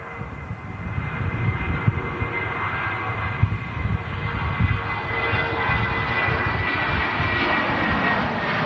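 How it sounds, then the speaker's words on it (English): A jet airliner rolls for takeoff at London Heathrow, probably one with IAE engines, giving a steady, broad roar that swells slightly over the span, heard from a distance with no talk. "Ryanair, British Airways lined up on the runway, ready to go."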